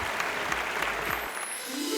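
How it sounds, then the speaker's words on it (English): Audience applause at a sustainability conclave conference: steady dense clapping fills the room at moderate volume for about two seconds, with no voices over it. "Big round of applause, ladies and gentlemen"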